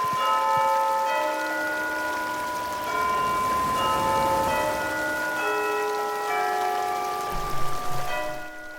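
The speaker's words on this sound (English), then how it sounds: "at the top of the hour, when the bell chimes, it chimes the town song" Hourly bell chime in Animal Crossing New Horizons playing the town song, a clear melody of bright bell tones over a steady rain-like hiss, with no talk.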